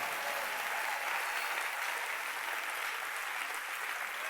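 A church congregation clapping and cheering in praise, a dense, sustained wash of applause heard at a distance with no gaps.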